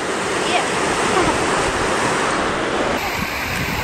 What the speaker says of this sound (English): Look at this river.